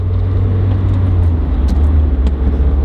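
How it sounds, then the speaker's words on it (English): An unrestored Mazda Miata cruises with its top down, a close, steady low engine hum and road roar with faint wind noise throughout. "we're driving a Miata, dude, and the top's down"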